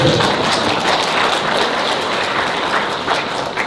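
Dense, continuous crowd applause from a seminar audience at a workplace training and sales motivation session, a steady wash of many hands clapping at once, fairly loud and sustained throughout with no talk.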